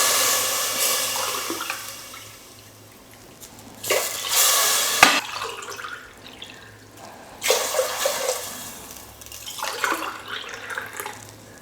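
Water is poured into a pot of rice and tamarind for pongal in several separate splashing bursts, each pour gushing then trickling off, close and clear with no talk.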